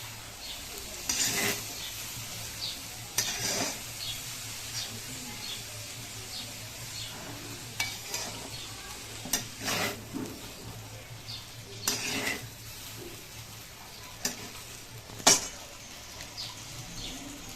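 Fried chicken breast and coriander leaves are stirred in a pan for a chicken kosha, with a faint low sizzle under irregular spoon-on-metal clinks and scrapes spaced a second or two apart.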